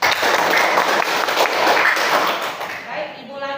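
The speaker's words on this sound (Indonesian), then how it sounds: "Berikan tepuk tangan." Students in a classroom clap for a classmate, a dense burst of hand claps that holds steady for a few seconds and then thins out.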